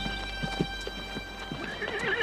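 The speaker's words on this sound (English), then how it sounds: "you got a real smart horse here." A horse neighs while its hooves clip-clop in a quick, close rhythm, the whinny rising clearly near the end over a faint steady background tone.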